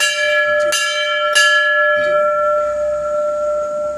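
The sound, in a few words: temple bell ringing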